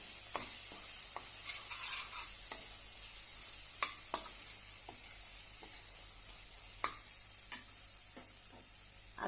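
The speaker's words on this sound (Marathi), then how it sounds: "आता छानपैकी परतून घेऊया" Spinach-onion chutney with turmeric and garam masala being sautéed in a pan, a soft continuous sizzle broken by occasional scraping stirs of a spoon close by, no voices.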